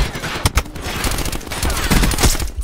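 Rapid bursts of automatic gunfire from the Swordfish weapon in a shooter video game crack close and loud, firing in quick clustered volleys.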